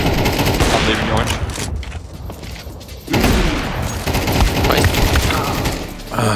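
Rapid, loud gunfire from the video game Counter-Strike 2 fills the clip in dense bursts, briefly thinning around the middle before another heavy volley, with game sounds layered throughout.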